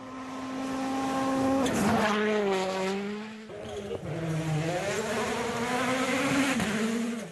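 Rally cars race through a special stage at Rally Poland, their engines droning and revving with rising and falling pitch, loud and close, as one car passes and another follows.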